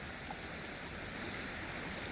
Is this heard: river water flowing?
yes